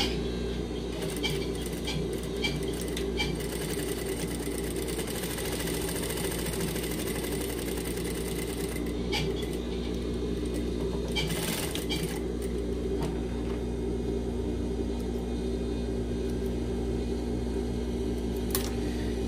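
Sewing machine stitching a straight side seam on fabric for an invisible side pocket, a steady continuous mechanical whir running throughout with a few brief clicks, close and moderately loud, no talking.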